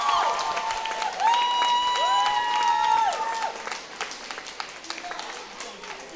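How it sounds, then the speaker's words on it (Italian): An audience applauds the youth group Ado after it opens the show at a farewell celebration for Don Paolo. Steady clapping runs for several seconds, with sustained whistle-like tones rising above it before the applause thins out. "Volevamo chiedervi un applauso per il gruppo Ado che ha aperto lo spettacolo."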